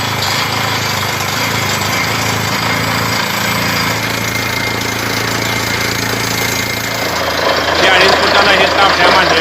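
A borewell drilling machine bores for water with a loud, continuous pounding roar that holds steady and swells slightly near the end, with people's voices partly buried beneath it.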